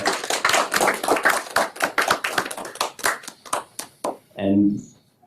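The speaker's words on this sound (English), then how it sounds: "If we could get a round of applause for these soon-to-be doctors," Applause for soon-to-be doctors at a spring innovation meetup: a dense run of hand claps that thins out and stops, followed by a voice.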